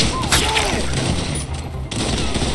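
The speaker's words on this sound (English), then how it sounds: "But they're shooting, though." Gunfire from enemies in the video game GTA 5, a Predator mod session: rapid bursts of shots and booms fill the clip densely, with a brief dip near the middle before the firing resumes.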